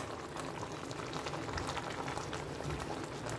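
An eggplant and hilsa fish curry at a vigorous boil over a high flame, giving a dense, steady bubbling and hissing that stays even and close with no talk.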